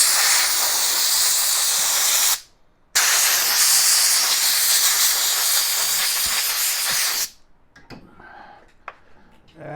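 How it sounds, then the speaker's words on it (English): Compressed air blasts loudly at close range to blow fuzz and pet hair out of a Lionel 1926 O gauge motor, sounding as two long hissing bursts split by a short gap, followed by quieter handling noises. "Blow out some of the fuzz."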